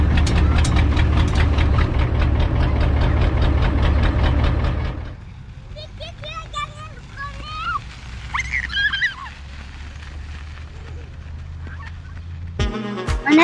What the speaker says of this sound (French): Et le bruit, j'adore. Donc il est en échappement libre.